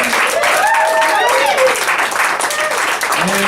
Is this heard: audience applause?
yes